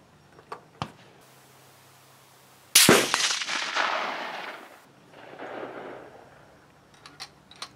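Rifle fire from a Springfield 1903A4 hybrid aimed at hanging steel pins on an outdoor range: a sharp crack followed by a long rolling echo, then a fainter second report, with a few lighter clicks around them.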